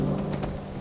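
Horse hooves clip-clop in the video game Skyrim, a short run of steady, close hoofbeats over a dense background bed.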